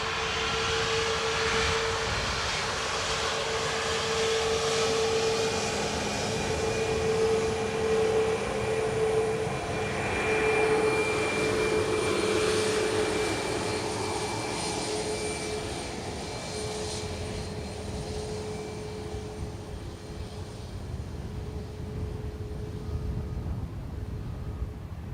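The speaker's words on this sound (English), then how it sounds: "The A330 in the background is doing laps." An Airbus A330 jet flying laps around Dublin Airport, a steady distant engine roar and whine that swells slightly midway and then fades gradually, with no voices.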